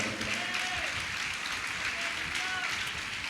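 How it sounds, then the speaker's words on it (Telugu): A church congregation claps together in sustained, dense applause that fills the room for the full few seconds, with voices mixed in underneath. "నమ్మిన వారు చప్పట్లు కొట్టండి"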